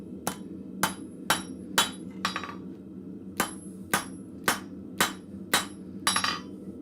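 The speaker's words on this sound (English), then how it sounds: "I'm using both the near side of the anvil and the far side just to flatten it out a little bit." Hammer blows flattening steel on an anvil at a blacksmith forge, about a dozen sharp ringing strikes in an uneven rhythm with short pauses, close and loud over a low shop hum.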